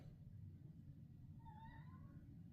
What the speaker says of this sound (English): Those meows getting bigger.